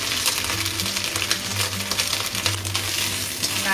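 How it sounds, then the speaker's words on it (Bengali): Grated coconut frying in hot oil with whole spices and a bay leaf for a vegetarian teasel gourd dish, giving a steady close sizzle with light stirring scrapes throughout. "নারকেলটা একটু ভেজে নেব।"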